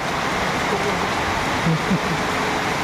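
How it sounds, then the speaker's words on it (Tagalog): Steady, dense rain hisses and patters without pause, with a few faint murmurs underneath. "grabe ulan, oh"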